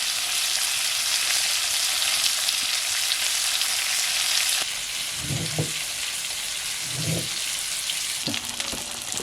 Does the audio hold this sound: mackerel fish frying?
yes